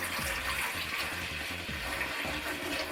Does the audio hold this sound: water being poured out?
yes